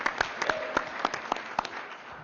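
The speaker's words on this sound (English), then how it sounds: "a big round of applause for Mayor Giuliani and" An audience at an Arizona hearing gives a brief, scattered burst of clapping, individual claps distinct and moderately loud, fading out after a couple of seconds.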